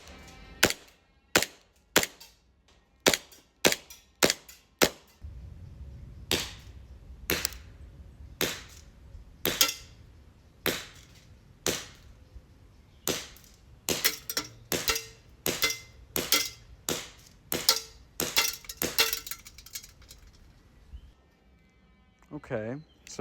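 A blowback airsoft pistol fires about two dozen sharp, snappy shots in quick irregular bursts, each crack followed by a short mechanical clack of the slide, aimed at a target 20 meters away.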